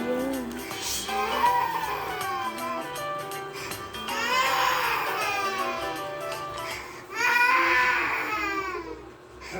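A baby cries in the Avatar World game, repeated wavering wails that rise and fall in several bursts, loud and near, with no one talking over them.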